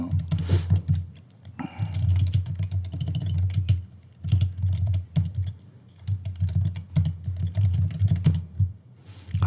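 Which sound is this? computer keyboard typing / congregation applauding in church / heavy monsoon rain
computer keyboard typing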